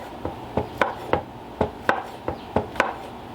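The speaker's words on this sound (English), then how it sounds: "I'm just going to cut these all up, and I'm using two containers or two packages of the kielbasa" A knife chops kielbasa into bite-sized half circles on a cutting board, giving about ten quick, crisp thumps at a steady rhythm, close and clear with no talk.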